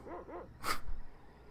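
A dog in the Secret of Evermore video game gives two quick whimpering yelps followed by one sharp, loud bark, close and brief against a quiet background.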